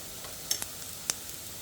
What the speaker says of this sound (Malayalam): നമ്മൾ ഇഞ്ചി വെളുത്തുള്ളി എല്ലാം നന്നായിട്ട് ഒരുവിധം പൊരിച്ചിട്ടുണ്ട്.